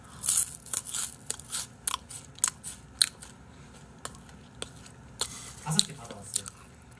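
Crispy butter-grilled dried pollack is bitten and chewed up close, giving a string of sharp, irregular crunches and crackles, some louder snaps among quieter chewing sounds.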